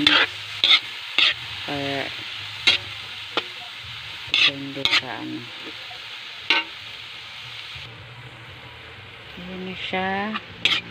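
String beans cook in a pan with a continuous close sizzle, broken by repeated sharp clanks and scrapes of a utensil stirring against the metal, plus short bursts of faint speech.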